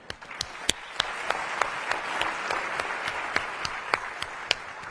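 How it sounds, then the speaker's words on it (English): A pitch competition audience at a forum reception and dinner applauds in a dense, sustained roar of many hands, with scattered crisp individual claps popping out throughout. "Give Brandon a big another round of applause"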